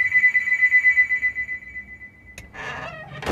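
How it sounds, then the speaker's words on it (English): A phone ringtone in the VR game Another Fisherman's Tale rings as a steady electronic warble for about two seconds, then cuts off into a brief clatter and a short burst of game sound. "Answer your phone, bro."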